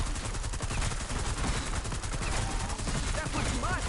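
Rapid gunfire in Black Ops 6 Zombies on PS5, dense bursts of automatic shots firing continuously and loudly, with a voice talking over parts of it.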